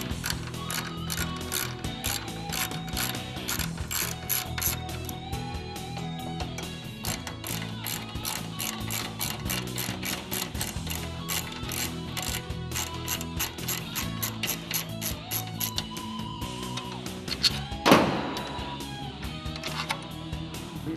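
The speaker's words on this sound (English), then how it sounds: "We now have to put the 5mm Allen screw on to take off the 2 large bolts that hold the gearbox onto the frame." A ratchet fitted with a 5mm Allen bit loosens the large bolts holding the gearbox to the frame of a JLG Liftpod, giving rapid, close, rhythmic pawl clicks that run steadily throughout, with a brief louder clatter near the end.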